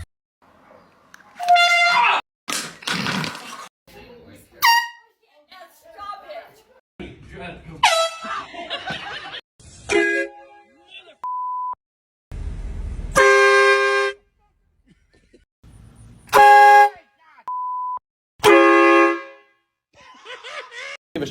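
Loud air horn blasts go off in several separate bursts during pranks, mixed with voices talking and laughing between the blasts.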